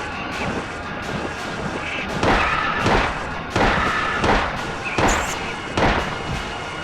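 Gunfire in the Silent Hill video game: a series of heavy booming shots at irregular intervals, each a sharp thudding blast with a short tail, fairly loud over quiet game ambience.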